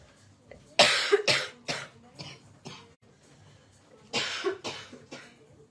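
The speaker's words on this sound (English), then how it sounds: "I've got a bit of a yucky, chesty cough" Several harsh, chesty coughs from one person, close and fairly loud, in two bursts of three or four with a quiet gap between them.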